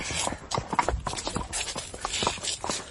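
Horse hooves clip-clop at a walking pace in a French radio drama as riders draw to a halt, with an uneven, close, moderately loud rhythm and no voices.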